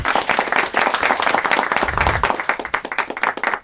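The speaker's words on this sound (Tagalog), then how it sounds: "Okay lang ba pumalakpak yung mga may natututunan ulit sa ABC rule?" An audience at a business talk by top earner Ms. Ajjie Rivera claps, a dense close burst of many hands with an uneven rhythm.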